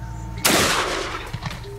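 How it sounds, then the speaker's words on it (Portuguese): A 12-gauge shotgun fires a slug at a watermelon outdoors: one loud, close blast with a long decaying roar, followed by a small thud. "Preciso treinar dar uns tiros com um projétil com a 12"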